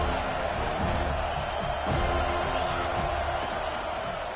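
Football stadium crowd at FSU vs Georgia on a third-down red zone play, a steady loud roar of many voices with scattered shouts and whoops throughout.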